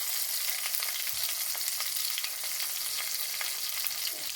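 Bay leaf, ginger, garlic, green chili and cumin frying in hot oil for a fish potato and tomato curry, a continuous bright sizzle with faint stirring clicks, close up and free of talk.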